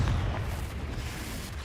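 A Confringo fire-blast spell bursting in the Hogwarts Legacy video game, a heavy low boom at the start that rumbles on steadily at moderate loudness without a clear second burst.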